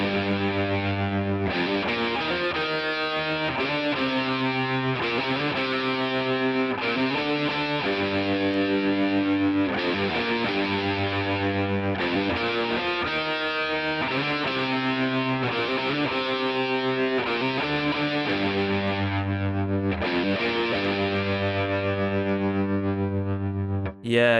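Heavily distorted electric guitar playing chords with a choppy, pulsing, panning tremolo, the sound rising and falling in steady rapid beats throughout.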